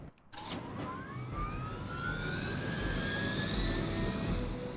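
Whining turbine engine of a helicopter in the Marvel's Midnight Suns video game, rising pitch tones over a loud rumbling roar, sustained and close.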